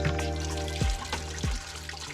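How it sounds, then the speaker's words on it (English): Running water rinsing chopped potato medallions in a sink, a steady close trickle and splash with a low hum underneath and a few soft thumps, no talking. "We'll give them a good rinse and then completely drain the water."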